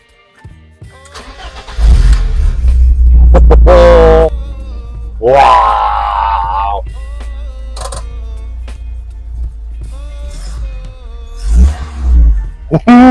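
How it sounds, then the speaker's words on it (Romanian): BMW E30 Cabrio cranked and started, engine catching and revving loudly with a roaring rise and fall, then settling to idle with further blips, close by, a voice exclaiming briefly amid the noise. "dăm prima cheie, să vedem dacă pornește la prima cheie"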